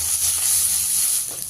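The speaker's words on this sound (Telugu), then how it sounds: "ఇవి కూడా లైట్గా ఫ్రై చేసుకోవాలండి" Green chillies and tomato pieces sizzle loudly and steadily in hot oil while cooking Telangana-style mint chutney, a constant close-up hiss with a few faint clinks near the end.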